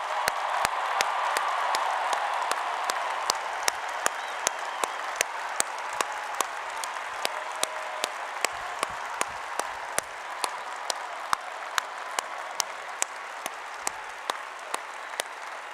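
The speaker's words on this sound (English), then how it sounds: "Let's give all of them a round of applause." A large stadium crowd at a university spring commencement applauds first-generation college graduates, steady broad clapping sustained throughout with scattered sharper claps standing out, no speech over it.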